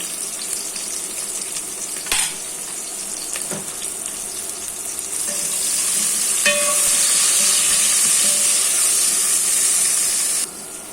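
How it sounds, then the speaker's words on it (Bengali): Onions fry in a pan for a fish curry with green banana, a continuous crackling sizzle that swells louder midway, with occasional clinks of a utensil against the pan. "পেঁয়াজটা আমার ভাজা ভাজা হয়ে গেছে।"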